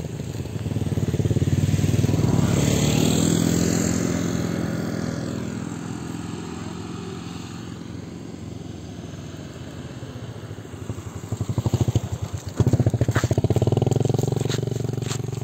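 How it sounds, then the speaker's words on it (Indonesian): A motorcycle passes along a path through rice fields, its engine note rising loudly as it draws near, fading through the middle and then swelling again with a rough, close drone. "Ada motor."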